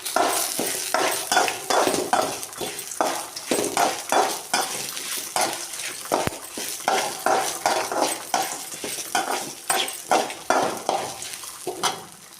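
Lentils and spices roasting in a pan for pumpkin sambar, stirred with a spoon in a steady rhythm of scraping, clinking strokes over a constant loud sizzle.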